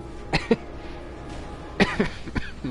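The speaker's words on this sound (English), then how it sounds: "I just cough in your face, or in the mic" Several sharp coughs in two bursts, a pair early on and a cluster later, close to the microphone with short pauses between.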